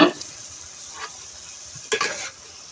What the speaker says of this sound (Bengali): এই আলু কাঁচা পেঁয়াজ কাঁচা মরিচ মুরগির এই কিমার সঙ্গে আমি একটু ভেজে নিব